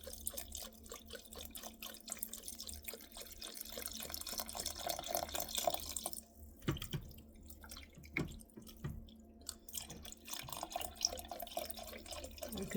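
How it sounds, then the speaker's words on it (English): Beef broth is poured into a crockpot for slow-cooked French onion soup, a quiet, close trickle and splash of liquid that runs on and off, with small drips between pours. "I'm gonna add my beef broth."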